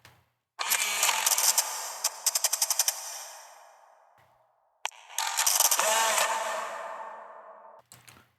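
Alien Baby Transformer effect built in Ableton: two bursts of bright mechanical whirring and ratcheting, each starting abruptly with rapid clicking stutters, then fading out over a few seconds, separated by a short silence.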